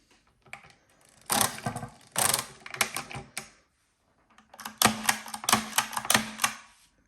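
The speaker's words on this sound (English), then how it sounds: "we wouldn't see Marchant's patented shifting mechanism in action, or hear how loud it is" Loud clattering mechanical bursts of rapid clicks and rattles from the carriage shifting mechanism of a Marchant Standard A mechanical calculator, in two runs separated by a pause, close and busy like gears shifting.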